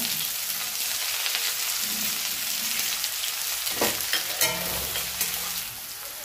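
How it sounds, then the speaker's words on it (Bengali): Onions dropped into hot oil for chicken biryani, frying with a steady moderate sizzle, a few stirring scrapes and crackles rising briefly near the middle, then settling. "তেল গরম হয়ে গেছে, পেঁয়াজ দিয়ে দেব"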